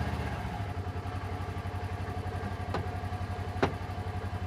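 A Kubota Sidekick utility vehicle's engine runs at a steady idle nearby, a continuous low rumble with mild clatter and two brief sharp ticks near the end; no voices.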